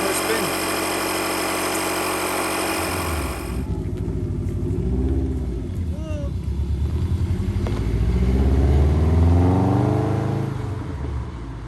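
A Subaru Impreza WRX with a misfiring engine runs steadily, its uneven low throbbing rising and falling in a slight rev near the end, while a person talks over it.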